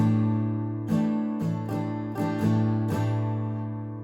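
A clean acoustic guitar strums a steady down-up pattern, several quick strokes over a few seconds, close and moderately quiet with no voices.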